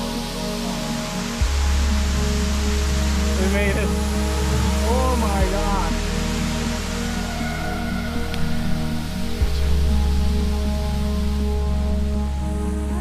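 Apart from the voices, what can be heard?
Samparona waterfall on Buton island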